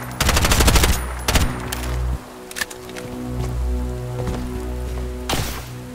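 Gunfire from a sniper rifle in the shooter game Bright Memory: Infinite opens with a loud, rapid burst of shots, then gives way to a few sharp single cracks spaced out over a steady background hum.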